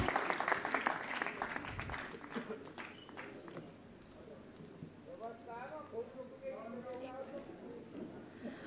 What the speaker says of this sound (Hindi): सिक्किम से पधारे हमारे लोक कलाकारों के लिए जोरदार तालियां